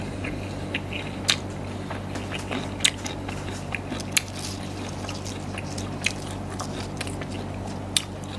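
Chewing on food eaten alongside a spicy Thai shrimp salad with tiew leaves, close wet mastication with steady soft crunching and a few sharper bites spaced every second or so, with no talk.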